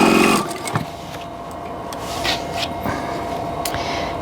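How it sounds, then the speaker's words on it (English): Sewing machine stitching along a line on a quilt block, a brief busy run of stitching at the start, then quieter handling noises and short clicks, fairly close with no voices. "I'm just sewing right on the line as best I can"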